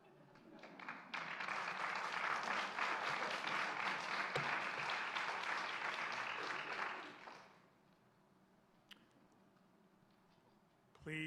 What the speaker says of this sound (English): Please, no applause, outbursts.